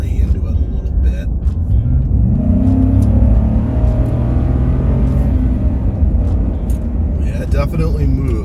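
Ford Raptor pickup truck with a 6.2 engine accelerating hard, a loud, close engine roar rising steadily in pitch through several gear pulls and staying strong throughout.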